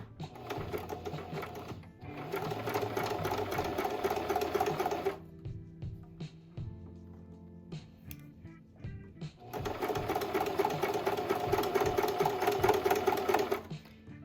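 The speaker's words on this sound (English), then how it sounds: "I'm letting the walking foot do its job" A sewing machine fitted with a walking foot stitches minky and faux fur for a lovey blanket, running in two long steady bursts with a quieter pause between while the fabric is turned at a corner.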